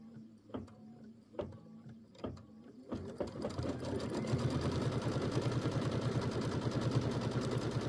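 Sewing machine stitching fabric for a quilt block: a few separate single thumps at first, then a steady rapid mechanical run of stitching, close and moderately loud.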